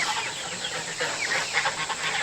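Several chickens, mostly Cochins, cluck and murmur softly nearby in a chicken tractor, in short, overlapping bursts.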